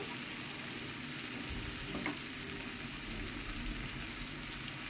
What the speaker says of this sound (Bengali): তো চিচিঙ্গেটা দিয়ে ভালো করে আমি নেড়ে নিচ্ছি।